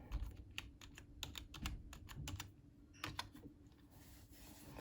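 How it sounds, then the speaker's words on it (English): Keys clatter in a quick, irregular burst of typing on a computer keyboard, with a pause and then a few more taps, close and fairly quiet over a low background hum. "So I'm gonna type in Star Wars."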